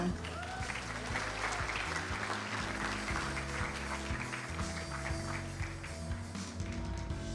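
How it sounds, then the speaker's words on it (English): Audience at a stock trading summit panel event applauding continuously, a dense, steady clatter of many hands clapping throughout, moderately loud in a large hall. "Let's give a round of applause for Mr. Charles William Ang."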